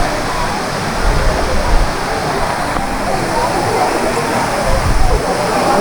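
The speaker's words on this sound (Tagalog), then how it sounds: "Yung pala meron din pala dito na falls sa Los Baños." Dampalit Falls in Los Baños, a waterfall pouring steadily with a dense, continuous broadband rush that swells slightly in places, heard up close and loud with no pauses.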